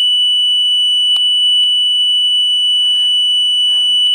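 Vehicle theft alarm from a modified mobile radio setup, a loud continuous steady tone sounding alone without a break, with a few brief clicks and faint rustles over it.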